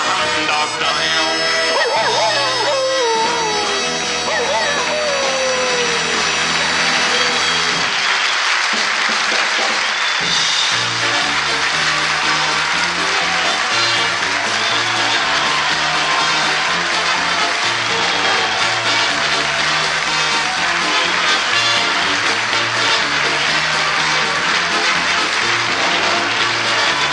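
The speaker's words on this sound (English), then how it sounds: "Thank you for that unexpected burst of applause there" Audience at a live show bursting into loud, sustained applause that starts over the end of a song with dog-like vocal yips and then carries on alone, thick and steady.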